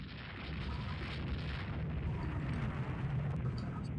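Naval gunfire from the warship game Rule the Waves 2, heard as a steady, low, rumbling roar of distant booming cannon with no clear separate shots, held fairly faint throughout.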